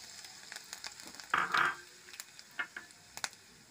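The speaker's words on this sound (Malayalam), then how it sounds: "അതിലേക്ക് രണ്ടു മൂന്ന് വറ്റലും ഇട്ട് കൊടുക്കാം." Dried red chillies fry in oil with mustard seeds, a soft steady sizzle broken by a few louder spattering bursts and light scattered pops.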